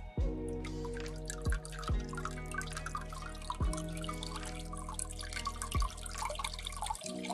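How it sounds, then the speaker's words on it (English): Water from an aquarium pump outlet splashing and dripping back into the tank, a continuous trickle with bright droplet plinks and periodic deeper gurgling drops, close and unaccompanied by talk. "Water come back to the tank through the outlet."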